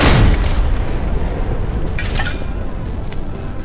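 An artillery gun firing in the World War II shooter game Hell Let Loose: one loud, heavy boom right at the start, then a long rumbling roar that fades slowly.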